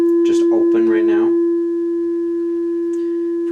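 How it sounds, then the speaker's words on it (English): A steady sine tone passes through a Eurorack tube VCA module, holding a constant pure hum under a brief burst of talk at the start, then continuing alone. "There's a sine wave come through it, just open right now."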